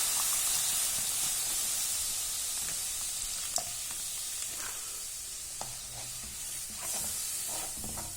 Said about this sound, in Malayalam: ഇപ്പോൾ ഇതിലേക്ക് നമുക്ക് കുറച്ച് പാലൊഴിച്ച് തിക്കാക്കാം.